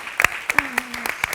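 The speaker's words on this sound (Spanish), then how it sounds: "vamos a darte un aplauso por este maravilloso gracias" Applause from an audience at a talk on insomnia during menopause, heard as brief scattered claps over a short stretch with a voice underneath.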